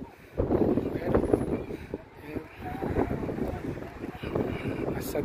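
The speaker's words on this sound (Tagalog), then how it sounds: "Mahangin ngayon dito." Gusty wind at Al Aqah Beach in Fujairah buffets the microphone in rumbling bursts, with a faint voice or two mixed in near the shore.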